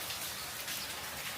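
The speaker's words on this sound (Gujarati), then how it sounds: "3 કલાક થઈ વરસાદ ચાલુ છે." Rain falls steadily and softly, a dense patter of drops on surfaces under dark clouds, quiet and continuous with no talking.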